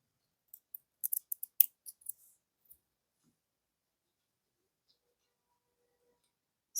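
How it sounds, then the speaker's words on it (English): A few quick, faint snips of scissors trim a beading thread tail on beaded earrings, then a long near-silence follows. "Now here we can cut the tail off."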